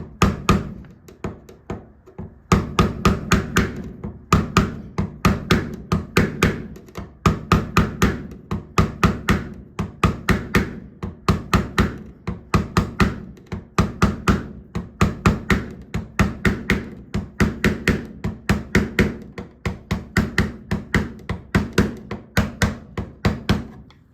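Sharp, steady hammer taps drive a trim clip on a Camaro/Firebird header trim back into place, dozens of close, loud knocks in an even rhythm with brief pauses and no talk.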